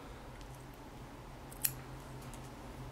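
A single crisp snip of scissors cutting thread while tying a fishing fly cuts through near-silence, one short sharp click with no voices around it.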